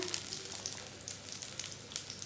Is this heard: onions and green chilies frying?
yes